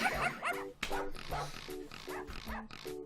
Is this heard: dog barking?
yes